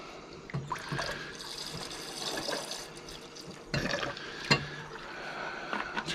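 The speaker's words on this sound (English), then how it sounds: "I'm just going to pour some nitric in." Nitric acid is poured into water in a container for gold recovery from computer RAM chips. A soft, continuous trickle of liquid is heard up close, with a few sharper splashes and clinks and no speech.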